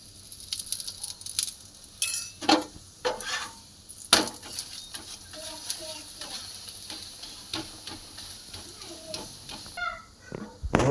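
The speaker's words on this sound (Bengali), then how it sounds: "এবার এটার মধ্যেও আমি তেল দিয়ে সেম প্রসেসে আবার এটা ভেজে নেব।" Aloo paratha, a potato-stuffed flatbread, fries in oil in a pan with a steady sizzle. Scraping and tapping sounds from the spatula come in at irregular intervals, with a few sharper clicks.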